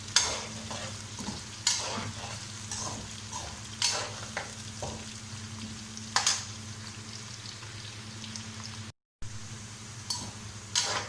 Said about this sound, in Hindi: आलू भी हमारे फ्राई हो चुके हैं। थोड़ी को और करेंगे